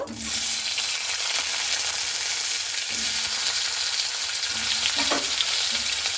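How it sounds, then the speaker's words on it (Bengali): Cut potatoes fry in oil in a wok, giving a loud, steady crackling sizzle that runs unbroken throughout, with a few faint clinks of stirring near the end. "তো আলুগুলোকে কিন্তু খুব ভালো মতো করে ভেজে নেব, লাল লাল করে।"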